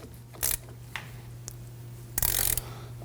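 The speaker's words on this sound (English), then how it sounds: "We can go ahead and snug down the banjo bolt." A ratchet tightens the banjo bolt on the front brake caliper of a 2009-2014 Ford F-150, giving two short, close bursts of rapid metallic clicks over a quiet background hum.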